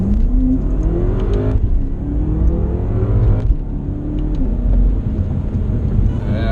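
A BMW F10 M5 with an Akrapovic exhaust accelerates hard, its loud engine note climbing through repeated gear pulls with brief dips between shifts.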